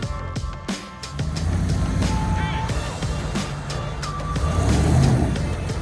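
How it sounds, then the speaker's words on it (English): A pickup truck in four-wheel drive strains against a shipping container, its engine rumbling and revving steadily close by, swelling louder toward the end, with scattered knocks and clatter mixed in. "Ginger put the truck in four-wheel drive and drove it past the container to get the right angle."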